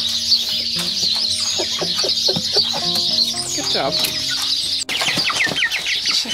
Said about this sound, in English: Always hungry chickens.